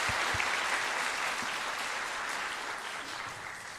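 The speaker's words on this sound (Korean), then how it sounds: "우리에게 이러한 성탄의 기쁨을 허락하신 예수님께 감사와 영광의 박수 한번 올려드릴까요?" Christmas service congregation in a Korean church claps together in dense, steady applause, filling the room and slowly thinning toward the end.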